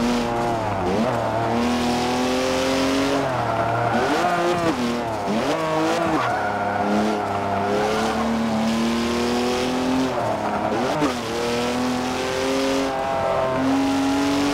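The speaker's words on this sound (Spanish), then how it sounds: "continuando con la marca BMW, este creo que es un M2" BMW M2 engine in the Forza racing game, revving up and down through repeated gear shifts with rising tonal whine and some tire squeal, loud and continuous without talk.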